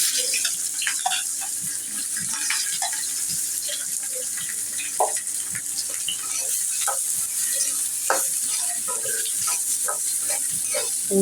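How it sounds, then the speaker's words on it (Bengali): Onions sizzle steadily in a hot pan, with scattered clicks and scrapes of stirring throughout. "পেঁয়াজটা ভালো করে ভেজে নেব"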